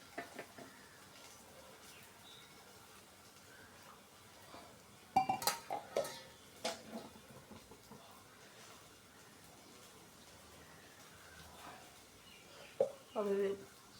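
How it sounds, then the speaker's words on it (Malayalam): Spices are stirred in a pan while curry cooks in a home kitchen, with scattered metallic scrapes and clinks of a spoon against the pan, faint at first and then clustering in brief bursts. "അപ്പം ഇതൊന്ന് ആ പച്ചപ്പ് മാറുന്നത് വരെ ഇളക്കിയിട്ട്"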